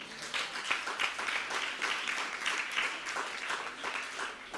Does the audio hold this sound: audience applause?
yes